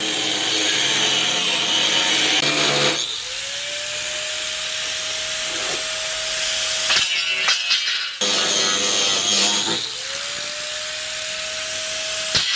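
A power saw trims a wooden side piece for a DIY platform rack, with two loud sustained cutting runs, each ending in a rising motor whine, and a short pause between them.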